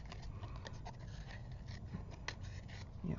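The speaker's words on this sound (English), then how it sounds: "Really fine tip scissors, very maneuverable." Quiet, scattered snips and paper rustles from small fine-tip scissors cutting paper, close up, with a steady low background hum.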